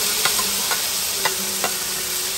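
Tomatoes go into a frying pan with boudin sausage for rougail boudin, setting off a steady hiss of frying with a few soft taps from the utensil, near and without talk.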